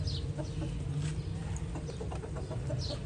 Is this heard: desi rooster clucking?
yes